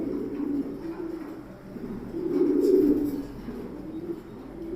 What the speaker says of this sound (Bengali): খুব সুন্দর এবং স্ট্রং একটা কবুতর